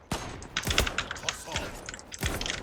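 Gunfire in the video game Zula comes as quick sharp bursts and single shots in an irregular pattern, mixed with clicks and thumps, while a player talks intermittently over it.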